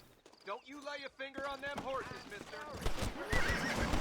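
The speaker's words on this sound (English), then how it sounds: "Pô, mataram o cavalo aí de graça." A horse in the video game Red Dead Redemption whinnies loudly in several rising and falling calls over rhythmic clip-clopping hooves and game noise.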